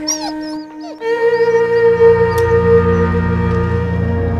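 A dog howls loudly and close, one long sustained wailing tone lasting several seconds, preceded by short whimpering yips.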